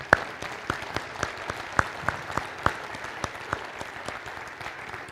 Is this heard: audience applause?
yes